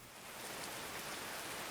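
Steady rainfall in the medieval colony-building game Going Medieval, a dense even hiss with no voices over it.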